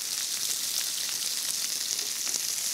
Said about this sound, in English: now I'm going to saute the onions